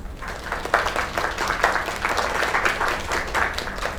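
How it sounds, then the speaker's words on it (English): Crowd applause in the video game Lake, a sustained round of clapping from an audience at a singing performance, dense and steady without voices on top. "Another round of applause."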